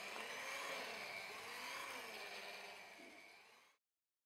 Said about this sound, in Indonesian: aku naikkan speednya dan mixer sampai kalis elastis